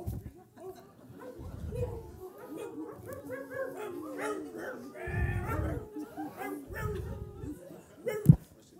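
A performer on stage in a lecture-performance imitates dog barking with his voice, giving a string of yips, whimpers and bow-wow sounds over several seconds. The imitation is close and moderately loud, with a sharp final yelp.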